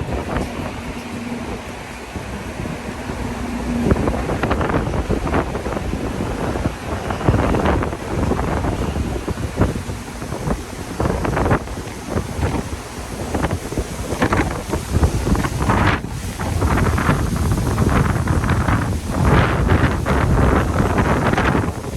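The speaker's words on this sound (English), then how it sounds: "it is very, very windy here today in Cozumel" Strong wind buffets the microphone on an open cruise ship deck of the Carnival Paradise in Cozumel, a continuous loud roar with repeated gusting bursts throughout, no voices.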